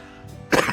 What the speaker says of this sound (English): I still have like the cough left over from when I was sick.